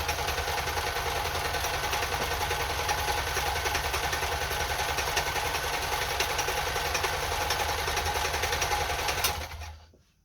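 A Kenmore sewing machine runs a reverse blind stitch, its fast, steady mechanical whir and needle clatter running evenly and close by for about nine seconds before stopping abruptly into near silence.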